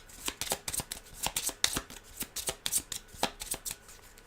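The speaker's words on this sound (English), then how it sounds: "These are going to be shuffled." A deck of cards for the Aeon's End War Eternal board game is riffled and shuffled in quick, crisp bursts of papery flicks, close and steady, with no voices.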